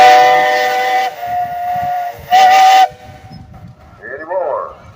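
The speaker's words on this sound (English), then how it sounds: "Hey guys, you got a whistle." A steam engine's whistle blows at a steam engine show parade, a loud shrill blast that drops off, then a second short burst, followed by quieter hissing and background noise.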